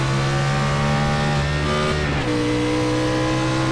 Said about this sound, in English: Kind of botched the upshift there a little bit